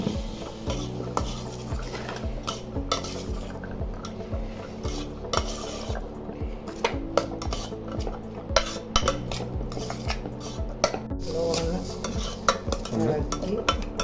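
Green peas and chilli powder being stirred in a metal pan for a homemade samosa filling, the spoon scraping and clinking steadily against the pan in a continuous rhythm over a faint sizzle, with no talking.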